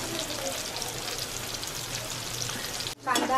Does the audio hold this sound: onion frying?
yes